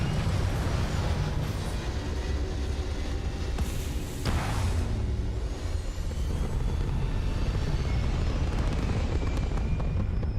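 A spaceship lifts off in the game Starfield with a loud, sustained rumbling roar that stays steady across the whole stretch, with a brief sharp whoosh partway through and no voices.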